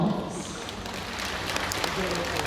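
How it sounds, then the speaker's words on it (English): An audience at a sea lion show at Singapore Zoo gives a scattered round of clapping, fairly quiet and mixed with voices and crowd murmur. "give yourself a round of applause"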